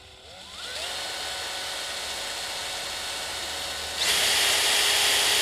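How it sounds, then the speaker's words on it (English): A power drill spins up and drills a 1/4 inch hole in the cold outdoors, a whining motor that rises in pitch, then turns louder and hissier as the bit bites, close and alone. "I'm going to drill about a 1/4 inch hole"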